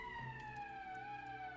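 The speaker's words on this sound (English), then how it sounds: "That's the emergency siren." An emergency siren sounding in the Valkyria Chronicles video game, a loud sustained tone gliding slowly downward with a low rumble underneath, no speech.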